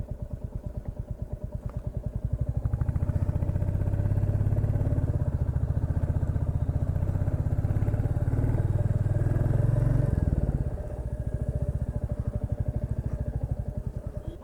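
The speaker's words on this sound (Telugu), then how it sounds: "బండి ఎక్కట్లేదు, హీట్ బాగా అయిపోయింది ఇంజన్" An overheated motorcycle engine labors uphill on a ride from Vizag to Araku, a close, rapid, uneven putter that swells louder through the middle and then drops back, with no talking.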